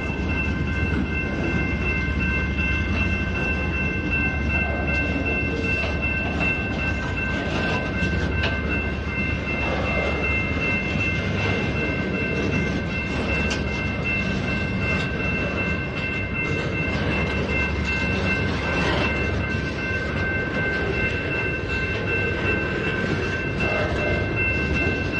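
Norfolk Southern freight train with distributed power passing close by, a continuous loud roar of rolling wagons with steady wheel rumble and a high screech throughout.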